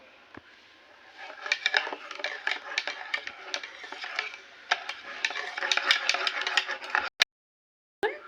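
A spoon mixing a cup of white oil into frothy cake batter in a bowl, heard as soft repeated scraping and clinking strokes close by, ending with a brief pause and a final tap.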